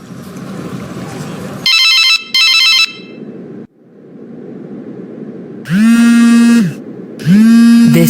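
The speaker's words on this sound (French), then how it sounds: "Décidément, ce téléphone ne s'arrête plus." A telephone rings in repeated bursts, two short electronic trills followed by two longer, louder ringing tones, over a low background rumble indoors.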